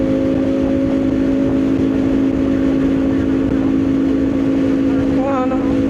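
A motorcycle cruises along an open, uncrowded road, its engine giving a steady hum under heavy wind rush the whole time, with no voices.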